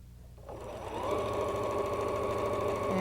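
Sewing machine stitching quilt pieces, starting with a soft whir and rising into a steady, close, rapid mechanical hum of continuous stitching.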